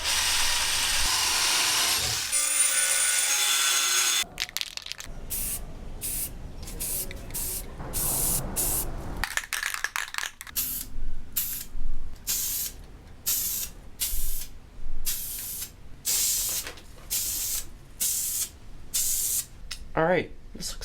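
Spray cans hiss while applying primer and semi-gloss gray enamel to a motorcycle front rack on a 1971 Honda CT90, first as a long continuous spray, then in many short bursts with pauses, and a voice talks in places.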